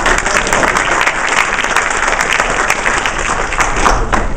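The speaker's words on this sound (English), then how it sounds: "Always clap." Loud, sustained audience applause at a public meeting, dense clapping from a crowd close by throughout.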